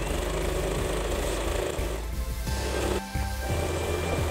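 A sewing machine stitches a folded hem on nightie fabric, its steady loud mechanical whir running continuously with brief pauses and changes of pace.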